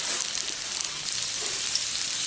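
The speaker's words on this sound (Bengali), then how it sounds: "জাস্ট 2 মিনিটের জন্য ভেজে নেব" Stuffed snake gourd pieces fry in a pan, giving a steady, even hiss with a soft, rain-like texture and no breaks.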